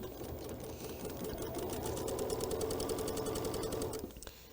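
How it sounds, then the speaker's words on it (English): A sewing machine stitching, with its needle running in a steady fast mechanical rhythm for several seconds before slowing and stopping, close and fairly quiet. "Now it will sew."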